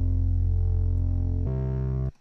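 Two separate synthesizer notes, each beginning with a distinct attack, the first held long and the second starting abruptly at a different pitch before cutting off, loud and distorted with no voices.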